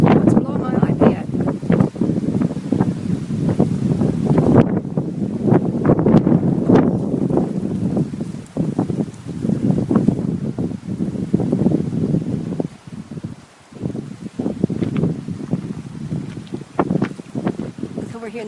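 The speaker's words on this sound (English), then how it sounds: "Here comes the wind. Look. It's blowing my iPad." Strong gusting wind ahead of a dust storm in Phoenix, Arizona, buffets the microphone with heavy, continuous rumbling roar that surges and dips, while a person talks intermittently underneath.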